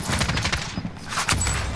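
Battle royale game gunfire: a quick rattling burst of rapid shots, a brief pause, then another short burst, loud and close.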